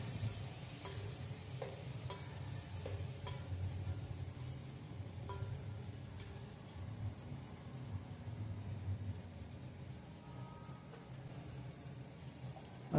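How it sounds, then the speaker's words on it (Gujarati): Vegetables for Kathiyawadi undhiyu frying in hot oil, a steady low bubbling sizzle with occasional soft stirring knocks throughout. "તેને આપણે 2 થી 3 મિનિટ સુધી અંદર તળાવવા દઈશું, જેથી કરી ઝડપથી ચડી જાય"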